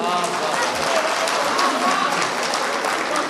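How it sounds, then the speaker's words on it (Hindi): An audience at a mushaira poetry recital in Yavatmal breaks into sustained, even applause, a dense crowd of clapping hands with voices faintly underneath. "अच्छे शेर पर ताली बजा दिया कीजिए,"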